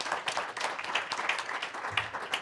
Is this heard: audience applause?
yes